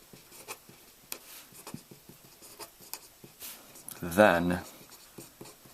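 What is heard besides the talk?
writing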